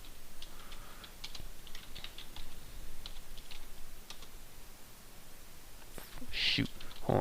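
Keys clatter on a computer keyboard in uneven bursts as a file name is entered, close and fairly quiet, with a few louder clicks and some handling noise near the end.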